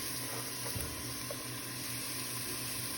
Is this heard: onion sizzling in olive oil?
yes